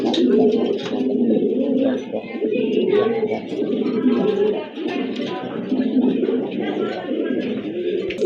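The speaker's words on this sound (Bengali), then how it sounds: "ইয়েলো কালারের ভিতরে এক জোড়া কবুতর" A pair of yellow pigeons coos in low, rolling murmurs that run almost without pause, fairly close and steady, with other bird noise mixed in.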